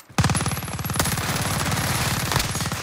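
Automatic gunfire from a weapon in Call of Duty: Modern Warfare, one loud, sustained rapid-fire burst of tightly spaced shots running nearly three seconds without pause.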